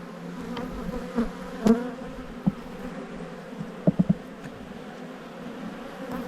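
Honey bees swarm around an opened blue hive as a frame is lifted out, giving a soft continuous buzz with a few sharp knocks and clicks from handling the frame.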